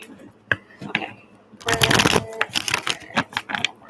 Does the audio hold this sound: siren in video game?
no